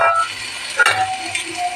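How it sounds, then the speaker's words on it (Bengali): Pointed gourd (potol) and potato frying in oil tempered with panch phoron, a steady close sizzle with stirring and clinks of a utensil midway, no talking. "দেখো আমার পটলও হয়েছে ভাজা। এবারে আলুটাকে আমি দিয়ে দেবো।"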